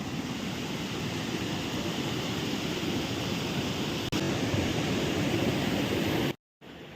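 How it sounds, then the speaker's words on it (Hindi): Neer waterfall in Rishikesh pours in a steady, loud broadband rush that holds constant without a break, briefly dropping out near the end before resuming. "अच्छा, ये झरना इधर से होके जा रहा है।"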